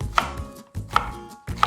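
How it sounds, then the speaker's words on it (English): Onions being roughly chopped with a knife for bobotie: three separate, evenly spaced strikes, each with a short ringing tone off the board, close and alone. "First up, let's chop the onions."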